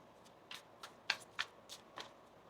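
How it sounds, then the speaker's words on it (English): Tarot cards are shuffled quietly by hand in a series of short, crisp riffling bursts, five or six soft flicks spaced unevenly across a few seconds with no one talking. "One more shuffle here."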